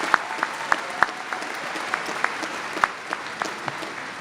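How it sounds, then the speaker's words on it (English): An audience in a large university gym applauds graduates at a business school commencement, a broad steady wash of clapping with scattered sharper individual claps standing out. "How about one more round of applause for our graduates?"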